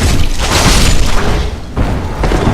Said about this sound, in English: so we don't get hit by those silly little fire bombs